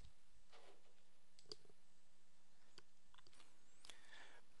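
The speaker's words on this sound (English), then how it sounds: "let's open the snipping tool by clicking on the Windows button and typing snipping tool into the search box" Mouse clicks and a few keyboard taps on a Windows 7 computer, sparse and quiet, with isolated sharp clicks spread across a low background hum.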